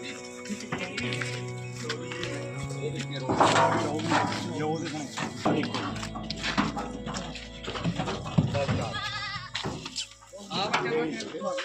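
Amritsari goats at a goat farm in Punjab bleat repeatedly, several calls near and loud amid people talking and farmyard background noise.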